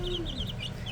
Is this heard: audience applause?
no